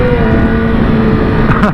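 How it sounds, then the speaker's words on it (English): A motorcycle engine revved with the throttle in an echoing space gives a loud, steady droning note that rises sharply in pitch near the end. "I like to sometimes throw the throttle in here."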